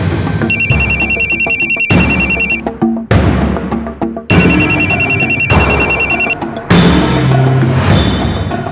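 A telephone rings loudly in repeated electronic bursts, pausing briefly between rings, with no voices.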